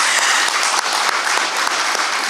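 Audience applause at a school sports press conference, a dense, steady wash of many hands clapping close and loud for the whole stretch, with no voices over it.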